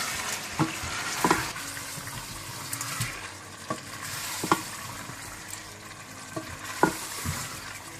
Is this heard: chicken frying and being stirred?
yes